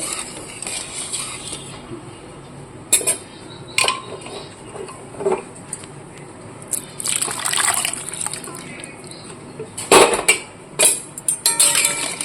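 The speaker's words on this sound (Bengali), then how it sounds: "আমরা একটু জল বেশি দেবো" Water poured into a pot of chana masala in a home kitchen, gushing in a few loud, splashy bursts between quieter liquid trickles and occasional clinks of utensils.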